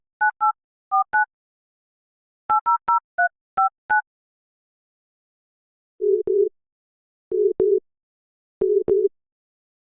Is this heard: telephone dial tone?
yes